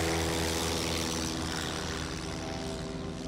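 A DC-3 piston-engine propeller airliner taking off at an executive airport, a loud, droning multi-blade engine roar with a steady throbbing hum, close and sustained throughout and fading slightly at the end.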